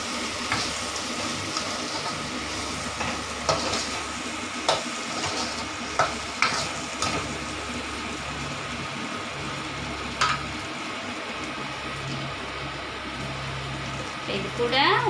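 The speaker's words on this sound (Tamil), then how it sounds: "சாம்பார் தூள் சேர்த்துக்கோங்க. எல்லாம் நல்லா கலந்து விட்டுக்கோங்க." Sorakkai kootu cooks in a pan with sambar powder, stirred with a steady scraping and soft sizzling, a spoon knocking against the pan now and then, close by.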